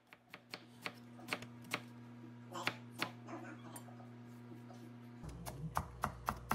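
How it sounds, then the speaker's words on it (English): A knife chops onions on a board in a home kitchen, a run of sharp, evenly spaced taps at a moderate pace over a low steady hum, fairly quiet. "And then chopped the onions."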